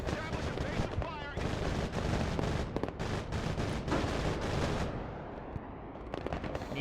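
Dense, continuous battlefield gunfire from soldiers in a Broken Arrow real-time strategy game, rattling bursts and heavy thuds layered loudly throughout, with a voice speaking over it.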